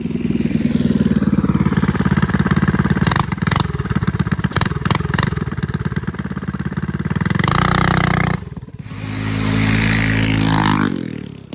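A mini bike rides a trail, its small engine revving loudly and steadily with clattering, easing off near the end and picking back up, no talk over it.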